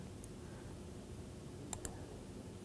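A computer mouse clicks twice in quick succession while someone works in CAD software, the clicks faint and close against a steady background hiss.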